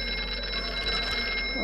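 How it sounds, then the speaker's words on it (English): A phone rings in the horror video game Here They Lie, a short electronic ringing tone that sounds close and clear over a low ambient drone. "Oh, phone call."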